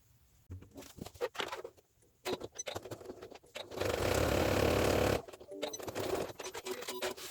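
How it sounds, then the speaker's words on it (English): A sewing machine stitching along a line to divide a bag pocket, running in one steady burst of about a second and a half amid quieter handling clicks and taps, fairly faint and close. "I'm going to stitch along that line to give me a nice separated pocket"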